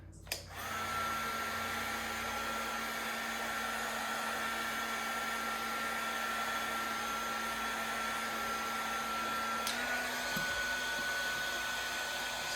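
A heat gun or hair dryer blowing hot air onto round stool seat upholstery, a steady close whirring drone that runs unbroken and then shifts pitch slightly near the end.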